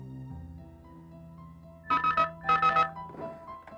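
A telephone rings in a tense police-drama scene, two or three bright, warbling bursts rising over a low sustained musical background, fairly loud and close, with no talk.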